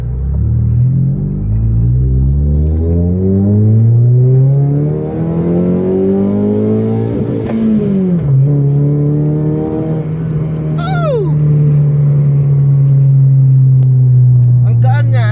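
Honda Civic FD with a manual transmission revs steadily while driving, its engine note climbing and dropping through gear changes then holding a loud, steady drone; a voice speaks briefly near the start.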